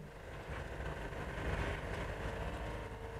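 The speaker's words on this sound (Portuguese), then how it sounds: "É um carro que funciona com ar comprimido." A French-invented car running on compressed air, the CAT, makes a steady, low, continuous mechanical hum and hiss, faint and unbroken, with no voices.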